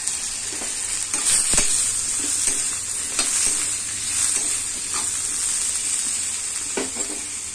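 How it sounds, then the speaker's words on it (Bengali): Chopped vegetables stir-fried in a pan give a steady, close sizzle with intermittent scrapes and stirring knocks throughout, no voices. "একটু হালকা ভাজা পর্যন্ত হালকা একটু ভেজে নেবো"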